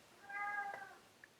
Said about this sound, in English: I wonder if you can hear my cat meowing.